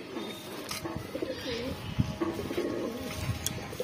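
Pigeons coo softly in a crowded loft, low throaty calls repeating under a steady background hum.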